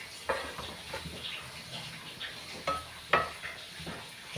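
Thoran, a vegetable stir-fry, is stirred in a pan with a few scrapes and clinks of the spoon against the metal over a faint sizzle, with no talking.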